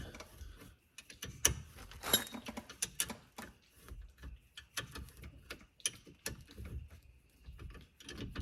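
A ratchet tightening the rear brake caliper bolts on a 2014 Honda Odyssey, quiet rapid clicking in uneven bursts with soft metallic knocks and handling noise close by.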